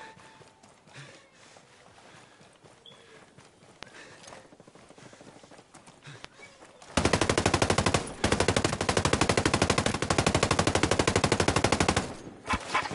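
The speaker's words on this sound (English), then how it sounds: "Hostiles are shooting" Enemy gunfire in Ghost Recon Breakpoint: after several quiet seconds of faint ambience, a loud, steady automatic burst rattles in fast regular rhythm for about five seconds, then cuts off.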